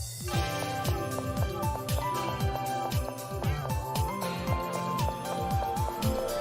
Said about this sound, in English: This is the Christmas music right now,